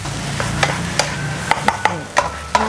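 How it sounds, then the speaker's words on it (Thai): A spatula stirs egg fried rice in a hot pan, with a steady run of sharp metallic scrapes and clinks over a low sizzle, close and fairly loud. "ผัดให้เข้ากันนะคะ"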